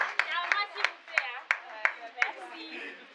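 An audience applauds a certificate recipient at a capacity-building workshop ceremony: bursts of clapping with sharp, regularly spaced claps near the mic, and voices faintly mixed in.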